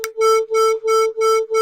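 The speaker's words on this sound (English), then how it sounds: "Now I'm going to play them both at the same time." Two slightly detuned steady tones sound together, their interference producing a loud, even beating that swells and fades about three times a second, alone with no talk.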